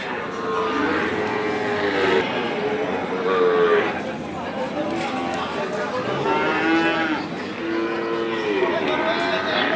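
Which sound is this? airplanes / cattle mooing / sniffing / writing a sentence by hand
cattle mooing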